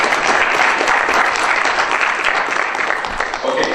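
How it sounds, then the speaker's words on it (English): Audience applause for presenters at a job fair event, a dense, steady wash of clapping from a crowd that carries on evenly throughout without a break. "So let's give them a round of applause"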